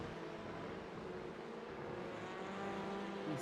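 A race car in the iRacing sim at Circuito de Jerez, a faint buzzing engine drone that rises slightly near the end as it goes past, with no voices.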